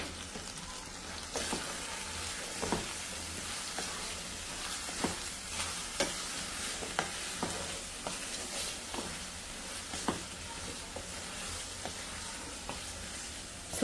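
Grated coconut and masala sizzling in a pan for a homemade dish, a steady soft frying hiss with occasional stirring clicks, fairly quiet and close, no voices.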